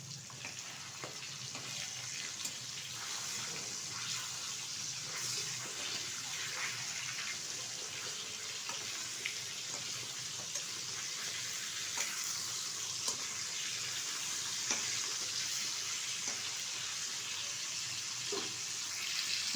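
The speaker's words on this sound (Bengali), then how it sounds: "এখন আমি আস্তে আস্তে করে এগুলি ছেড়ে ভেজে নেব মাছগুলো।" Rohu fish pieces frying in hot oil, a steady dense sizzle with crackling pops that holds for the whole stretch at a close, moderate level, with no voices.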